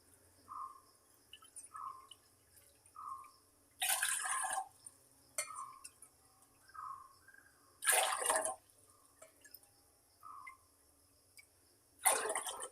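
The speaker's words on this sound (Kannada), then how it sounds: "ನಾಲ್ಕು ಬಟ್ಲು ನೀರು ಹಾಕ್ತೀನಿ." Water is poured from a cup into a cooking pot on a gas stove in several separate loud splashing gushes, with quiet gaps between them where small birds chirp faintly in the background.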